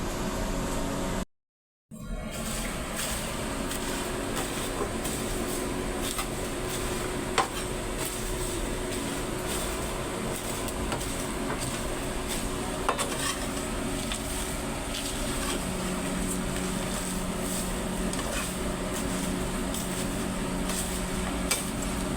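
Mixed meat spices dry-roasting in a pan on a stovetop, a steady low crackle and hiss with faint scraping stirs, near and continuous after a brief dropout at the start.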